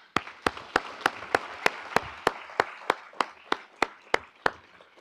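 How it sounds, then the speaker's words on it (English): Applause for teachers at a summer research institute conference: one loud, close pair of hands claps in a steady, evenly spaced rhythm over a softer bed of crowd clapping. "Who I also want to give a round of applause to the teachers"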